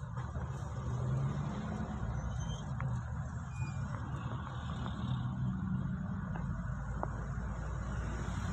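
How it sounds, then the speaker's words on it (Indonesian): Steady road traffic at a roadside unofficial bus terminal in Romo Kalisari on the route between Malang and Osowilangon, with a continuous engine rumble of passing cars and buses, fairly loud and unbroken, and no talk. "Itu ada bus-bus yang dari arah Malang menuju ke Wilangon ya."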